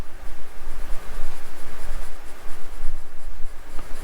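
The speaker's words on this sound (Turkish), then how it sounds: "bu çalışmayı yaparken kaleminizi hep aynı şiddette bastırmaya özen göstermeniz lazım" A pencil shades steadily across paper with even pressure, a close, continuous scratchy rasp pulsing in quick back-and-forth strokes, with no voices.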